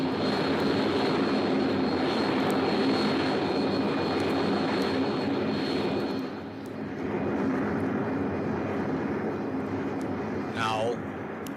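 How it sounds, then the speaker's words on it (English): Jet bombers flying overhead faster than sound, heard in a 1955 civil-defense radio drama, a continuous loud roar that dips briefly midway and ends with a short descending whistle-like tone. "You hear the roar after the bombers have passed over your head."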